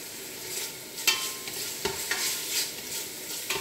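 Lardons frying in oil in a pot for beef bourguignon, a steady soft sizzle with a few sharp clicks and stirring knocks, close and alone.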